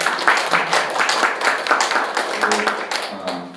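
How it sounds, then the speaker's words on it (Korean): A church congregation claps together in brisk, steady applause, many hands close by, lasting a few seconds. "우리 박수로 환영하겠습니다."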